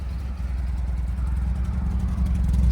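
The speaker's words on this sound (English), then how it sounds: "Let you hear that exhaust a little bit." Rumbling exhaust of a 1969 Ford Mustang Sportsroof with a 428 Super Cobra Jet V8 and Scott Fuller exhaust with turn-down tips, idling steadily up close with a deep, lumpy pulse and no voices.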